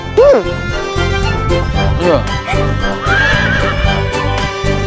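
Horses whinny loudly beside a chariot, several rising neighs in a row over steady background music, with hooves faintly clopping and a voice briefly audible.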